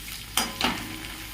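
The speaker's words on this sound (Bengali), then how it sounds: "এরপর আলুটা একটুখানি ভালো করে লাল করে ভেজে নিয়েছে" Potatoes fried in a pan until reddish-brown, with two short stirring scrapes of a utensil over a soft, steady sizzle.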